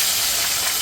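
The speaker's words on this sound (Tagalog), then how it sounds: "nagpiprito lang ako ng tilapia" Tilapia frying in a pan for sweet and sour fish, giving a steady, close hiss and sizzle of hot oil with no break and no voices.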